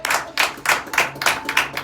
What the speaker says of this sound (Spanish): Alguien dele palmas al Señor.